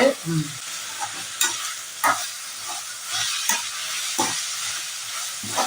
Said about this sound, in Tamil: நல்லா வதங்கி வந்துகிட்டு இருக்கு